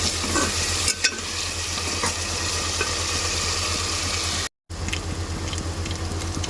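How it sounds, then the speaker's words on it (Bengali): Spices being stir-fried in a covered pan make a steady, close sizzle and frying hiss with irregular stirring scrapes. A low hum runs underneath, and there is a brief cut near the end. "আমি মশলাগুলো সুন্দর করে কষাবো"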